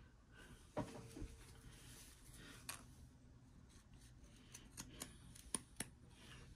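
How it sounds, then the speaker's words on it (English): Quiet snips of pinking scissors trimming fabric around a curve, a handful of short crisp clicks spaced unevenly over faint rustling. "I'm going to go ahead and use my pinking scissors and just"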